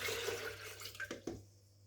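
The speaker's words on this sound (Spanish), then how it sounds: "Colocamos la pulpa en una procesadora y le agregamos medio litro de agua." Water, half a liter, gushes into a food processor holding persimmon pulp, a brief splashing pour that cuts off abruptly, leaving near silence.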